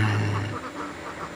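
Laying ducks quack in a short burst, a few nasal calls close by over a low hum.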